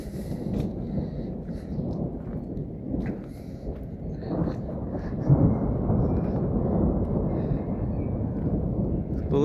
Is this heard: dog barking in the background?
no